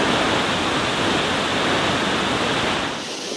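A river courses along its bed in a wet outdoor spot, a loud, unbroken rushing of water that holds steady and then eases slightly near the end.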